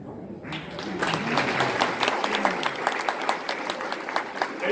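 Audience applause for musicians on stage at a live Andean folk concert, a dense wash of clapping that swells after a quiet first half-second and carries on steadily, with scattered crowd noise mixed in.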